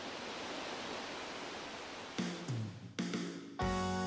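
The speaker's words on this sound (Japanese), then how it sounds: "石能の滝、幅40メートル高さ18メートルの大滝で日本の滝百選にも選ばれています。" A large waterfall, 40 m wide and 18 m high, roaring as a steady broadband rush that is cut off partway through by louder tonal rumbling and humming from another source.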